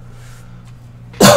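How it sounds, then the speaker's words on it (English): A single short cough bursts out loud and close at the end, following a stretch of quiet low background hum. "Excuse the coughing, guys."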